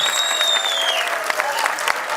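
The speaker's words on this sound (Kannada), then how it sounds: "ಜೋರ್ ಚಪ್ಪಾಳೆ ಬರಬೇಕು ನಮ್ಮ ರಘುಗೋಸ್ಕರ" An audience claps loudly for Raghu, a dialogue writer, at a film event with Golden Star Ganesh. The applause is dense and sustained, and a voice rises over the crowd now and then.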